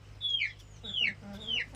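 A Kadaknath hen clucks close by, three clear, separate calls that each fall in pitch, with a low steady hum underneath.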